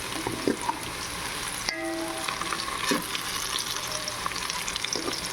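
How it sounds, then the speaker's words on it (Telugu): Onions and cashews fry in an oil-filled pan for mutton biryani, giving a steady close sizzle with occasional stirring scrapes and a brief clink, no voices. "ఆ ఎర్రగడ్డలు ఇంకొంచెం వేగేలోపు ఈ జీడిపప్పు కూడా రెడ్గా వస్తుందన్నమాట"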